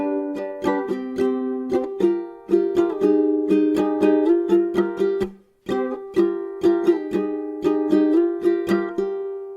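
Ukulele plays the transition after the chorus of the One Piece opening, with bright, rhythmic strummed chords and sharp chucks, one brief pause midway, close and unaccompanied.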